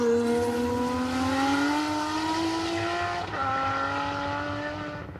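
A Nissan Skyline HR31 touring-class race car passing on a track: a loud, steady engine drone climbing gradually in pitch, dipping briefly at a gear change, then fading away with no voices.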